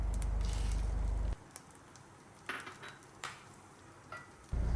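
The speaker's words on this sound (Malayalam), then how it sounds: "ആവശ്യത്തിന് കറിവേപ്പിലയും ചേർത്ത് നന്നായിട്ട് ഇളക്കിയെടുക്കും" Grated coconut, red chillies and dals roasted in a pan for Kerala pulinkari, heard as a steady sizzle with scraping stirs that drops to quieter faint scrapes, a few louder ladle strokes, then the sizzle returning.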